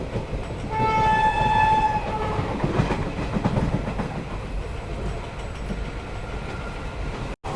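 A passenger train, 09545 Rajkot to Bhuj, rumbles past close by near Dhuva railway station, sounding a long horn blast early on, followed by steady clattering wheels on the track.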